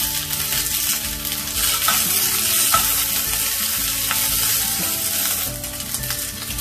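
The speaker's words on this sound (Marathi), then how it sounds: "शिमला मिरची टाकायला आता ती पण थोडीसे रोस्ट करून घ्यायची" Bell pepper roasts in a hot pan with a dense, continuous sizzle and crackle, broken by a few light clinks and scrapes of stirring, close by with no voices.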